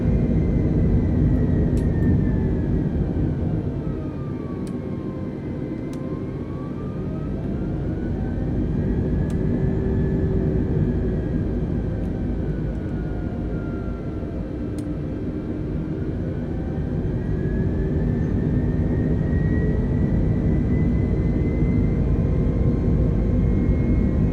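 Airliner jet engines climbing after takeoff in Microsoft Flight Simulator 2020, a loud continuous roar with whining tones that slowly rise and fall, plus a few faint clicks.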